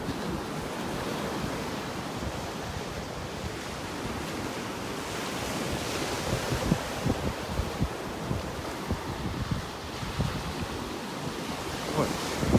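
Ocean surf washes onto a beach in North Naples, Florida, on a morning walk, a continuous close rush of waves mixed with gusty wind buffeting the microphone.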